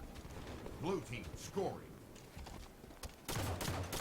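Shotgun fire in Rainbow Six Siege, a loud sustained burst near the end, after stretches of game effects and someone commentator talking over them.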